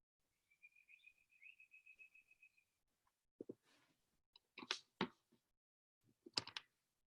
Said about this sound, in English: Those birds in your background, Sora?